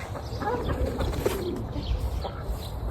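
Soft cooing of chickens and roosters mixed with low clucking, close by and steady, over a constant outdoor background with no talking, in Urla, Turkey.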